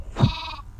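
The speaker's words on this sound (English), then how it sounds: "These are the sheep." A single short, close sheep bleat from the Minecraft video game, a quick wavering tone lasting under a second over faint background noise.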